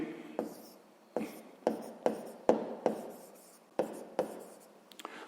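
A pen scratches out a series of about eight separate, close strokes on paper while a sixth-grade maths exercise is worked through, each stroke a short dry scrape with quiet gaps between, no voices.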